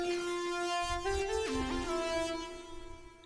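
A sustained Serum software synthesizer preset tone holds one pitch, then bends and glides between notes with a gritty, buzzy texture before slowly fading.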